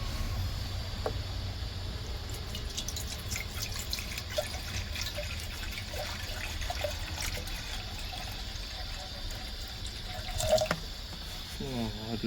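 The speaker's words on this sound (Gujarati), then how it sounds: "એમાં નાખી દઈએ આપણે પાણી." Water running into a pressure cooker, a steady faint splashing stream that continues throughout, with occasional soft knocks and a brief louder splash near the end.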